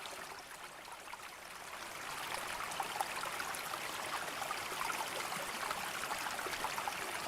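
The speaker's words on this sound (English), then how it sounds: "here are some of the waterfalls" Waterfalls in the survival game Jaws of Extinction rush and splash in a continuous, even hiss of falling water, fairly soft and steady throughout, with no voices.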